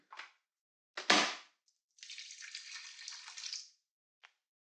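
Warm water is poured into an olive oil bottle in a kitchen, heard as a close, hissing trickle lasting under two seconds, preceded by a few sharp clunks and splashes.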